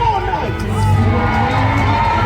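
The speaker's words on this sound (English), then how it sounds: "Cheer for your" Crowd cheering and whooping for a knight at a jousting tournament during a Wars of the Roses show at Warwick Castle, loud and continuous with shouts and children's voices throughout.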